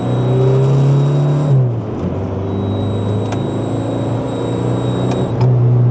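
A remapped turbocharged car with a full exhaust revs loudly and close, its engine note climbing, dropping, then building again under acceleration.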